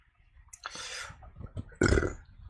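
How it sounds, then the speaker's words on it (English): A couple of loud human burps, short and throaty, the second one louder and closer, with no talking over them. "it's a lot of burps."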